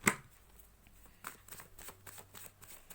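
Tarot cards riffle and flick in a short shuffle, then a few soft slaps and slides as cards are drawn from the deck, close and fairly quiet with no talking.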